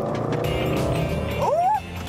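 Range Rover Sport SVR in dynamic mode pulling from a standing start, its loud exhaust roaring close up with a rising engine note and a brief squeal near the end.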